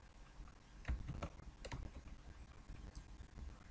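Someone types a command on a computer keyboard, producing a short burst of soft, close key clicks with one heavier thump over faint room noise.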